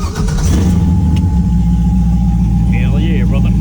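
Pontiac Firebird engine rumbling at a steady low idle after starting, close by, with a brief higher rev near the end and some background talk.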